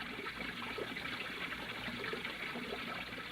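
Fountain water splashing into a stone basin, a steady close wash of running, gushing water with no break, staged as a sound effect in an old-time radio suspense drama.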